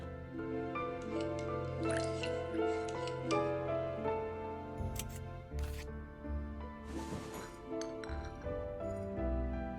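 In the Murder in the Alps video game, a drink is stirred with a spoon, making repeated light glassy clinks and tinkles that run quiet and steady over a soft background of game music.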